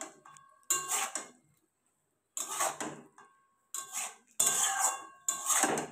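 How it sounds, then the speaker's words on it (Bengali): Bottle gourd stir-fried with a spatula in a metal pan, clattering and scraping in several bursts separated by short pauses, close and fairly loud. "দিয়ে আবারও সুন্দরভাবে এখানে কষিয়ে নিতে হবে।"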